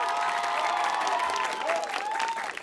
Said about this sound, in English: Round of applause for Doral Academy.